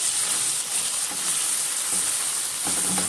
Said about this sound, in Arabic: تشويحه بس كده بسيطه